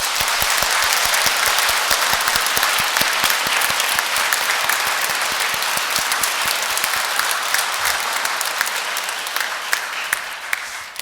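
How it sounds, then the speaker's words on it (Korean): A church congregation at an Easter vigil Mass applauds in a loud, dense, sustained burst of clapping that fills the hall, easing off slightly toward the end, with a few voices mixed in. "축하의 박수 또 수고의 박수 한번 쳐드릴까요?"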